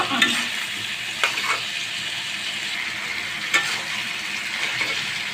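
Potato and eggplant pieces fry in spiced oil, a steady close sizzle with a few sharper crackles and spatters, and no talk.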